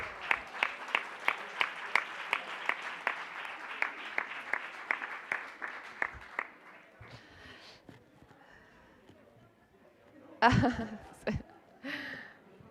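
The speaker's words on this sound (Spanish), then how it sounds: "Un aplauso para el app de Europa del Norte" At an international symposium, a small audience applauds: a steady run of even claps for about six seconds, then fading, followed by sniffs, brief laughter and murmured voices.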